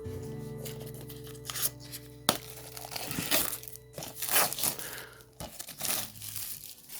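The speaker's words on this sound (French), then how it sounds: "Donc on va tout simplement retirer le carton." Cardboard sleeve slid off a Stephen King Blu-ray steelbook, with soft scraping, crinkling and papery rustles arriving in irregular bursts, close and fairly quiet.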